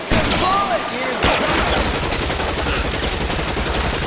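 Gunfire in the video game L.A. Noire: a dense, continuous run of shots with a short burst of loud impacts early on, then steady rapid firing throughout, with game sounds mixed in.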